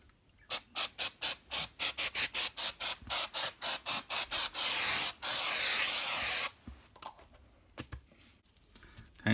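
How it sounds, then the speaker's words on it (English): Trigger sprayer of cleaning product squirted onto sticky residue, a rapid run of about fifteen sharp, close hissing spritzes followed by a longer sustained spray, then quiet handling. "let's just put one more spray on there."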